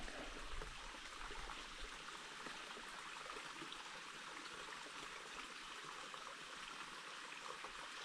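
A small mountain stream flows and trickles along a hiking trail, a soft, steady wash of water with no other sounds or voices.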